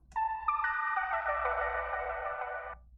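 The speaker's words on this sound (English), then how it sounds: "later on in the beat, I put this horn sample in there." A sustained brassy horn sample in a hip-hop beat swells in, shifts pitch once, and holds for a couple of seconds before cutting off cleanly.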